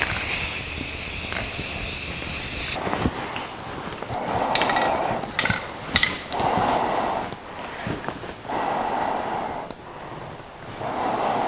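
Aerosol spray paint hisses onto the axle housings of a 1982 Jeep CJ7. A long, loud hiss runs at the start, then shorter close bursts of spraying follow with brief pauses between them, and no one speaks.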